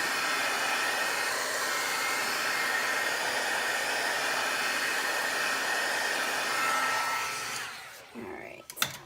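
A heat tool blows hot air to dry ink on a handmade card, a steady close hiss-roar for about eight seconds that then cuts off, leaving a few small clicks.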